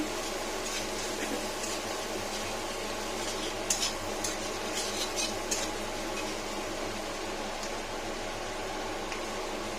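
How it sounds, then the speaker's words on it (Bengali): Taro frying in a pan with chopped garlic, a steady continuous sizzle with occasional scraping stirs and clinks around the middle, fairly close and without any talk. "একটু ফ্রাই ফ্রাই ফ্রাই"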